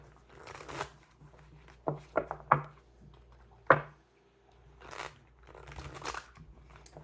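Tarot cards are shuffled in a quiet room, giving a series of crisp riffling and slapping bursts with short pauses between them, close and fairly soft.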